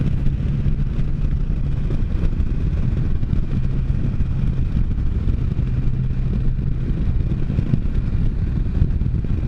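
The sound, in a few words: Can-Am Spyder three-wheeled motorcycle riding at speed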